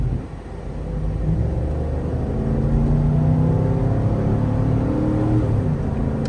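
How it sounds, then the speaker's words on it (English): A 2012 Cadillac Escalade, a flex-fuel model, accelerates from inside the cabin with a steady low engine rumble and whir that builds after the first second and stays even and moderately loud, no one speaking. "It takes a while to accelerate, but more than enough pickup."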